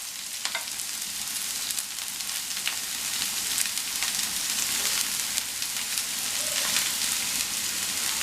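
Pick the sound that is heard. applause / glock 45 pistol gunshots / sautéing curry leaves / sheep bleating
sautéing curry leaves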